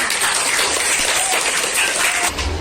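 Applause from a class of schoolchildren after a lesson, a steady dense patter of many hands clapping together at close range, continuing evenly for the whole stretch before tapering slightly at the end.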